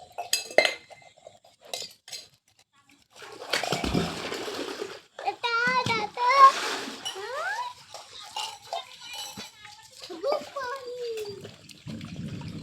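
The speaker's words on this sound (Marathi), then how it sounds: "मग आता भांडी घासायला आले" Steel pots and utensils used to cook Maggi over a wood-fired clay stove are scrubbed outdoors with drawn water, producing scattered close metallic clinks and scrapes amid frequent chatter from several people, including a child.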